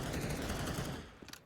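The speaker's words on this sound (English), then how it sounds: "Make it a second potentially if he sprays the MAC-10 or even the FAMAS" A sustained burst of rapid automatic gunfire from a MAC-10 or FAMAS spray in a Counter-Strike match on Nuke, loud and dense, cutting off after about a second with a couple of trailing shots.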